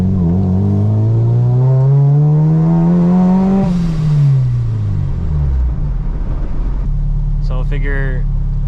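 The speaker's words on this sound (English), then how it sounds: "I love the blow-off valve." A supercharged Honda K20 engine in an RSX revs up with a rising supercharger whine, then falls away, and the blow-off valve lets out a sharp hiss near the end, loud and close with no voices.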